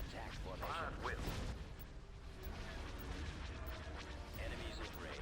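Starship batteries in a Star Wars space battle game pound away in a dense, continuous barrage of booming blasts and mechanical clatter, loud and layered, with voices talking over the gunfire.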